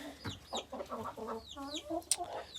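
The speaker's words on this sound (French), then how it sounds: "La Roncana, le petit coq croisé Brahma" A small Brahma cross rooster and Brahma hens cluck in a backyard flock, a close run of short rhythmic clucks and murmurs with one sharp higher squawk near the end.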